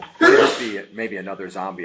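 A single sharp sneeze bursts out at the start, followed by someone speaking in a normal voice.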